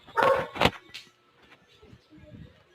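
Dogs bark in a dark outdoor spot at night, two loud close barks at the start followed by fainter scattered yips and rustling.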